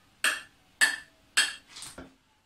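A table tennis ball hit with a metal pot lid makes three bright, ringing clinks at a steady pace, then a softer, duller knock, heard close in a quiet room.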